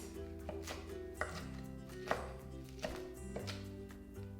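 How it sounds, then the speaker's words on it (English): Knife roughly chopping a batch of greens into bite-sized pieces on a board, a handful of distinct thuds spaced through the clip over a steady low hum, no talking. "just a little rough chop to make them bite-sized pieces"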